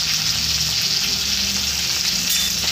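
Cumin and coriander seeds frying in a pan, giving a steady, loud hiss and crackle that stays close and even throughout, with no talk.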